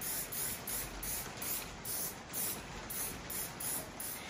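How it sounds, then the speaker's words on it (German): Hairspray hisses from an aerosol can onto dandelion seed heads in repeated short bursts, about eight even pulses, close and alone. "nun werde ich sie noch sicherheitshalber mit etwas Haarspray fixieren"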